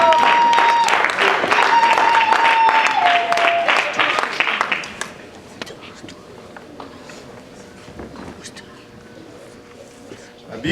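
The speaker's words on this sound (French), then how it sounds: "Est-ce qu'on peut les applaudir?" A wedding congregation claps for the newly married couple in a dense burst of applause that fades after about five seconds, leaving quiet room noise and scattered sounds.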